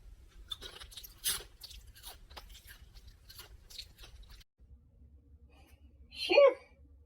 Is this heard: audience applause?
no